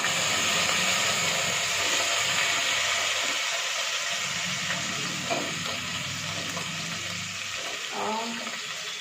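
Fried garlic, onion, chilli and tomato go into hot oil for paneer biryani, giving a loud, steady sizzle with occasional utensil clinks and stirring that fades slightly toward the end.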